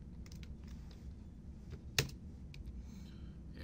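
Quiet, scattered keystrokes tap on a computer keyboard as text is entered, with one sharper click near the middle over faint room hiss and no talking.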